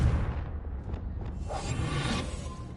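A Confringo blasting spell goes off in Hogwarts Legacy inside a cellar, a dense rumbling blast with whooshing layers that swells and holds loud throughout, with no talking over it.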